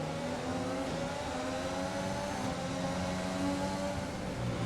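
High-revving Formula 1 engines in an F1 racing game at the Austrian Grand Prix, a continuous loud whine holding steady pitch as the cars drive flat out along a straight.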